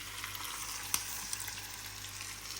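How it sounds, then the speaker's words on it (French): Osso buco browns in a pan with a steady close sizzle and crackle, a sharp pop standing out near the start, no voices over it. "Là, on a fait revenir l'ossobuco"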